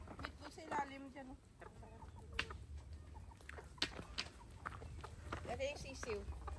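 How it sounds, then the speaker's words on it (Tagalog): Backyard chickens with chicks clucking in short soft bursts close by, faint overall, while people talk quietly nearby. "Gandang mga manok yan."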